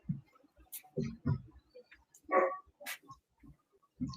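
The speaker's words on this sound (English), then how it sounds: "Was that your puppy?" A puppy that now weighs about 45 pounds gives a few short, sharp barks and yips indoors, scattered between quieter thumps and small noises, close to the microphone.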